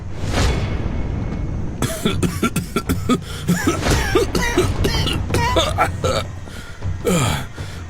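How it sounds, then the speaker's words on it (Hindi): Loud, repeated coughing in a rapid fit over steady background noise, with harsh throat sounds and gasps between the bursts. "उन्हें एकदम से जोर जोर से खांसी आनी शुरू हो जाती है"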